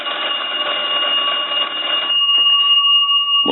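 A Western Electric 350W wooden wall telephone's bell rings steadily for about two seconds, rung by a line analyzer, then stops, leaving a sustained electronic tone that continues alone.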